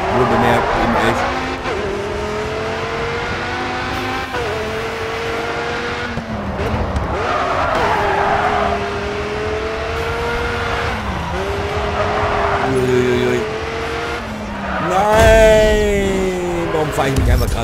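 A race car is driven in the video game Grid 2, its engine droning and rising through gears with tire squeals in the corners and a loud roar near the end, while someone speaks over it.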